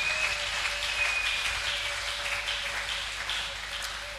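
A church congregation claps and cheers in praise of the Lord Jesus, steady sustained applause filling the room at moderate loudness, with a faint tone running beneath and no speech over it.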